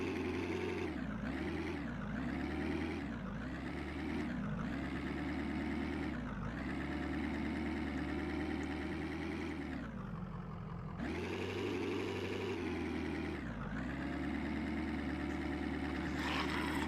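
A vehicle engine in Survive the Nights runs steadily at a low idle with a droning hum, its pitch rising and dipping in repeated swells over a long, continuous stretch.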